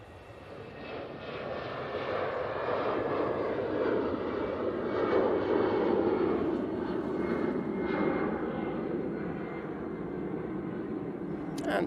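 A jet airliner rolls for take-off at Manchester Airport, a broad engine roar swelling from quiet to a sustained loud peak mid-way, then easing slightly as it moves off, with no talk.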